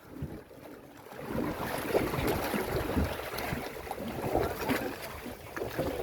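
Steady low rumble of two boat engines running over water off Davao Occidental, Philippines, with wind noise and splashing throughout, fairly loud and continuous.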